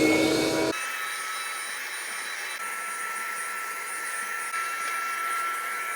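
A Craftsman shop vac vacuums up planer shavings left by a Woodstarter TP10K 13-inch thickness planer, a loud steady motor whine and airy roar that holds unbroken after a brief harsher start, with no talking.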